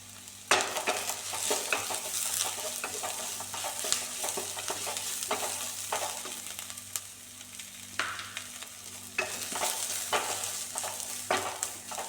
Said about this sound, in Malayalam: സവാള വഴണ്ട് വന്നിട്ടുണ്ട് ഇനിയിപ്പോൾ നമുക്ക് ഇതിലേക്ക് നമ്മൾ കീറി വെച്ചിരിക്കുന്ന പച്ചമുളകും കൂടി ചേർത്ത് കൊടുക്കാം